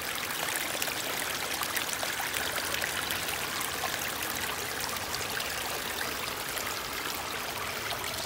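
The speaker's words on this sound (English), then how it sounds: "look at the flow we have already coming through here" Water pours steadily through a breached beaver dam, a continuous close rushing and trickling with no pauses and no voices.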